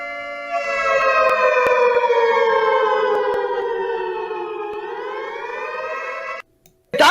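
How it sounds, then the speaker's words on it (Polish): A loud, sustained wailing siren holds a steady tone and then slowly shifts pitch. It cuts out abruptly near the end, with a brief burst after. "alarm."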